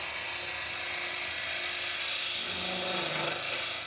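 A 3/4 inch skew chisel cuts along a wood spindle turning on a lathe, giving a steady, close hissing shave over the whirring lathe that grows louder and rougher toward the end.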